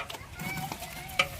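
A ladle stirs sambar in a large cooking pot being prepared for a wedding meal for 400 people, giving a brief wet scraping and sloshing sound with faint sizzling.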